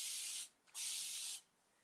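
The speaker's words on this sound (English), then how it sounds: "you just grab your spray bottle and you just" A handheld spray bottle mists water onto wet paint on a room divider in two bursts of hissing spray, each about half a second to a second long, close up with a short pause between them and no talk.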